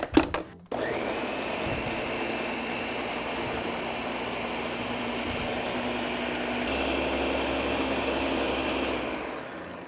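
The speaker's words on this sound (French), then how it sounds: "Et je vais réduire en purée très lisse." An electric blender purees broccoli with milk in a kitchen, a loud continuous whirring drone that starts abruptly and holds steady for several seconds before cutting off.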